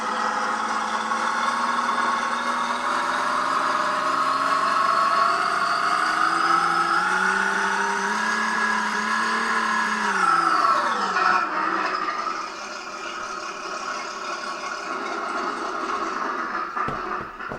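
A 1/6 scale Armortek M26 model tank running, a steady whirring engine drone close by whose pitch slowly rises, then drops sharply and settles lower as it winds down, ending in a few small clicks.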